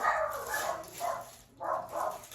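Several dogs barking indoors at a distance, four quick muffled barks in an uneven rhythm, faint and echoing, with no talk over them.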